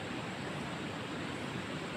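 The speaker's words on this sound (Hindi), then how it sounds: "देखो पानी किस तरह से चला है इधर।" Jungle river water flows in a dense, unbroken rush, a steady close wash of sound with no speech.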